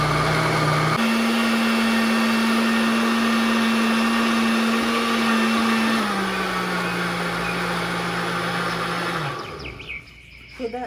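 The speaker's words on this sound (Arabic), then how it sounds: "وبرضو هنضربها كويس في الخلاط." An electric blender whirs at a steady high pitch as it beats yogurt cake batter, dropping slightly in pitch midway, then winds down and stops near the end.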